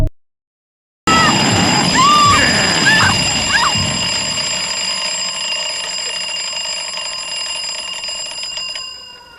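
An alarm clock rings loudly in a scene from the 1984 film A Nightmare on Elm Street, starting abruptly after a moment of silence and ringing steadily while background sounds fade.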